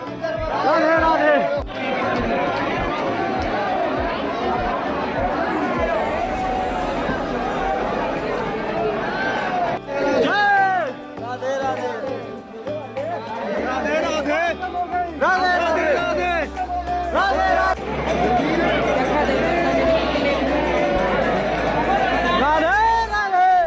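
A dense crowd of pilgrims at Varsana temple mills and shouts, with loud overlapping voices, chants and babble filling the space continuously.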